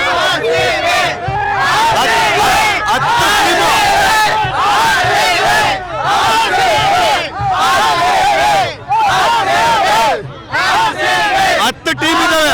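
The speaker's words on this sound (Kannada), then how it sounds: "ಈ ಕ್ರೌಡ್ ನೋಡಿ ನಿಮ್ಗೆ ಏನ್ ಅನಿಸುತ್ತೆ?" Cricket fans celebrating the RCB IPL 2025 championship win roar and chant in a dense, loud crowd, with cheers and shouts rising and falling continuously and voices talking through the din.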